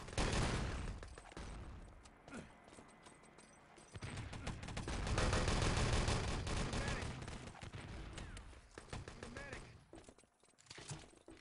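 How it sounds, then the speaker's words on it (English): Gunfire from the online shooter Enemy Territory plays in a competitive match, with dense, rattling bursts of automatic and rapid fire in the game mix while a caster talks over it. "Nice shooting from Tomb."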